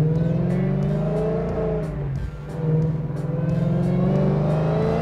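A supercharged 2014 Ford Mustang convertible built to about 1200 rear-wheel horsepower cruises, briefly drops off, then is given gas, its engine note rising into a steady drone with blower whine overhead.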